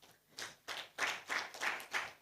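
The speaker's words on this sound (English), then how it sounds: "Please clap for him." Audience clapping at a young filmmakers' project event, heard as a run of about seven steady, evenly spaced bursts that sound like rhythmic hand claps filling the room.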